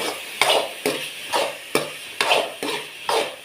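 A ground paste of coconut, chilli and cumin is stirred into cooked snake gourd in a pan, with about eight regular scraping strokes of a spoon, close and clear, and no talking.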